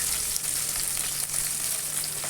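Steady frying sizzle of onions sautéing in a pan, a continuous crackling hiss with faint stirring, close and even throughout.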